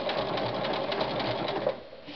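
A sewing machine runs continuously while stitching an appliqué onto fabric, giving a fast, even mechanical whir with rapid needle pulses, close and steady throughout.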